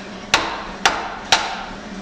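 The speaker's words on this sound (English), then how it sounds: "This thing has been rusted so bad, I've been having to take a hammer" Three sharp hammer blows on a rusted metal fender, evenly spaced about half a second apart, each ringing briefly before fading.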